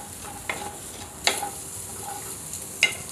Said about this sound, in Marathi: आणि हा कांदा आपल्याला भाजून घ्यायचा आहे